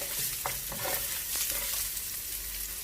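Julienned carrot strips stir-fried in a hot pan for Singaporean rice noodles, giving a steady close sizzle broken by a few scraping, tossing stirs, with no talking.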